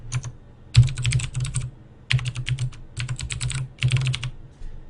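Keystrokes on a computer keyboard as a password is entered during a Fedora 22 install, in four quick close bursts of clicky taps separated by short pauses.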